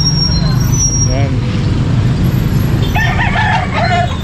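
A rooster crows and chickens cluck at a market selling quality gamefowl, a crow rising loud near the start and a burst of clucking later, over steady traffic and vehicle rumble.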